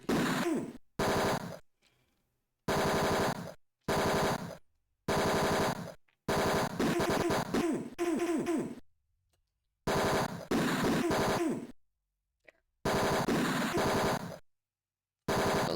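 Rapid bursts of gunfire in the 1989 video game Tex Murphy: Mean Streets, loud and close, coming in repeated chopped volleys separated by sudden silences.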